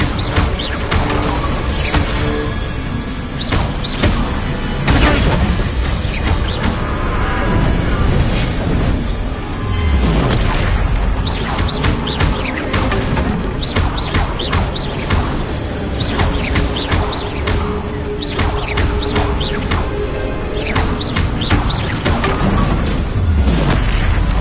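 Incendio fire spell blasts in Hogwarts Legacy, a dense barrage of loud bursting whooshes and crackling impacts that run back to back without pause, with no spoken voice.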